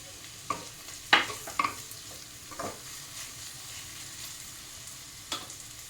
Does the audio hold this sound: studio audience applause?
no